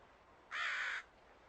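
A single loud, harsh caw from a crow, about half a second long, rising clearly above a quiet outdoor background.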